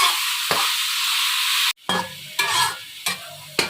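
Minced beef keema frying in a pan: a loud, steady sizzle broken by several stirring scrapes, sharp bursts of hiss as the meat is turned, close up with no voices.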